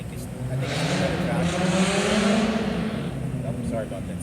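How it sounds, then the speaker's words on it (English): A motorcycle riding past outside, its engine note rising and sweeping by over a few seconds and fading, heard under someone talking nearby. "Somebody's riding a motorcycle."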